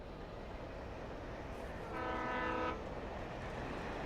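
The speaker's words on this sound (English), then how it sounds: "Well, there's the train again." A train in the video game Alan Wake rolls past, its horn sounding as a steady harmonic blast for under a second over a constant low rumble of rail noise.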